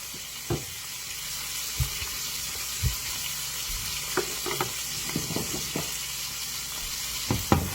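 Steak searing in a hot pan, a continuous close sizzle broken by scattered sharp clicks and clanks of a utensil or the pan being moved, no voices.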